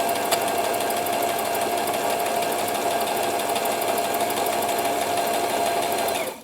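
A Brother XL-3750 sewing machine stitching in one continuous run, its rapid mechanical chatter loud and close and steady for several seconds before it winds down at the end.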